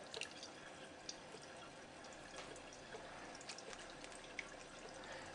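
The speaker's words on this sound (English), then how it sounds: "First, you'll fill up the test tube about halfway." Water running from a water ionizer set to alkaline into a small test tube, a quiet continuous trickle with scattered light drips and splashes, close by, with no talking.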